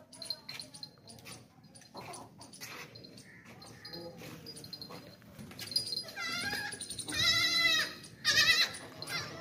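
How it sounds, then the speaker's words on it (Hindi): A male goat bleats loudly and repeatedly near the end, with wavering cries rising above a background of people talking and shuffling movement at a goat sale. "ये बकरा है बकरा"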